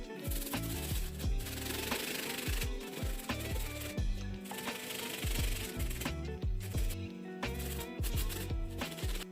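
A brush scrubs dirt off the toe box of a Nike Dunk SB sneaker in fast, rough back-and-forth strokes. The loud, close rubbing runs continuously with brief pauses and no talk.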